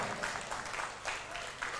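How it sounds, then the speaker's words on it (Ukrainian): Wedding guests clap steadily in a hall, a dense spatter of applause at moderate volume that swells and eases slightly over the short stretch. "ця людина також заслуговує оплески, можна йому гучно поаплодувати"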